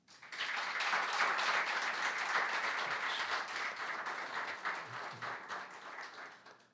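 A lecture audience gives a loud, sustained round of applause to welcome the speaker at a conference on indigenous language rights and policy, dense clapping that holds steady and then gradually thins out toward the end.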